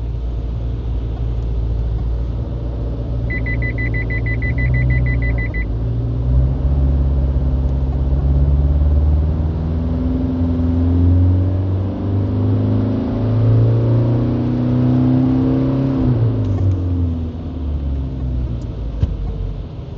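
A tuned, turbocharged car engine with high boost runs hard on a dyno during a performance pull, a loud, steady rumble and rising drone held for about twenty seconds, ending in a short burst.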